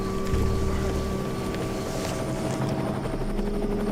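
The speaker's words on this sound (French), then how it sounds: "Vous l'entendez, cet hélico?" Police helicopter passing overhead in an American neighbourhood, a loud steady rotor drone with a constant thrum and some wind rush, heard alone without speech.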